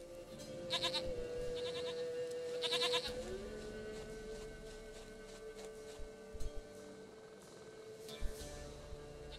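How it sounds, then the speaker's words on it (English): Goat bleats in The Witcher 3, loud and close, several wavering calls in short bursts over a steady game ambience, with a few faint clicks between. "Goat of mine, dearest, sweetest goat."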